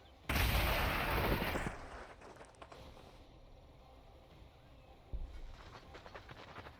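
Grenades burst in the strategy game Warhammer 40,000: Gladius, a loud sustained blast with crackling debris lasting over a second, followed by quieter battle ambience and a second smaller explosion near the end.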